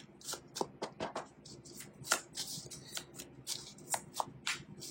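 A tarot deck being shuffled by hand: rapid riffling card flutters and soft slaps in quick irregular bursts, close and moderately quiet, with no talk.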